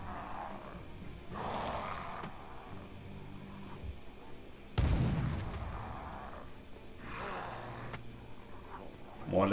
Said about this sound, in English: More landmines detonated.